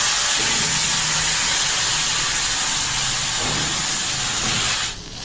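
Ivy gourd fries in a pan with a steady, loud hiss and sizzle that runs throughout and cuts off abruptly at the end.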